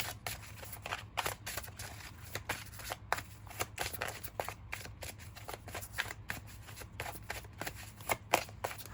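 Oracle cards being shuffled by hand, a quick run of papery riffles and slaps repeating steadily and close, with a faint low hum underneath and no talking.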